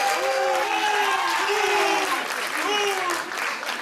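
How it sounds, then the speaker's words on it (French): An audience claps for a woman named Farida, producing dense, sustained applause while a speaker's voice carries clearly over the clapping throughout. "Farida, on applaudit aussi."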